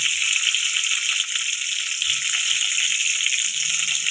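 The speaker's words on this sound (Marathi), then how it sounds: "आता आपण त्याच्यामध्ये कढीपत्ता टाकून घेऊया आता आपण त्याच्यामध्ये जिरा मोहरी टाकूया" Curry leaves, cumin and mustard seeds sizzling in hot oil for poha, a loud, steady, close-up hiss that continues without a break, with faint crackles underneath.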